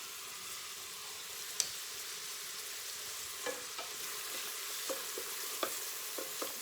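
Spices stirred into a hot frying pan, a soft steady sizzle with occasional light scrapes and taps of the spoon against the pan, close and unaccompanied by talk.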